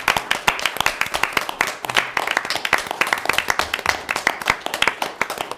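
A small group at a school board meeting claps for several seconds, with sharp, uneven hand claps close by that keep a lively pace throughout.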